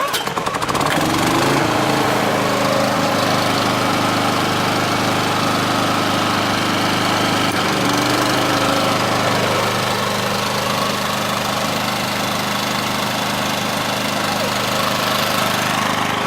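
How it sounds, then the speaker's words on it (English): A portable generator runs loud and constant at a campsite in White River National Forest, a steady droning engine throughout with no pauses. "Now I'll go over and I'll start up the generator."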